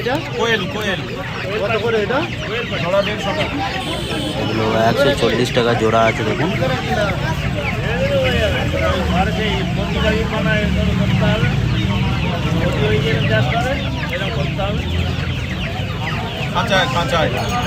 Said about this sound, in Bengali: এখানে দেখতে পাচ্ছেন কোয়েল মুরগি আছে দেখুন।